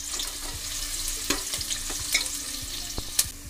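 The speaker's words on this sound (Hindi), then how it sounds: "इसको हम गोल्डन ब्राउन होने तक फ्राई कर लेंगे।" Two medium chopped onions fry in oil toward golden brown, a soft steady sizzle broken by occasional spoon clinks and stirring scrapes, quiet and without talk.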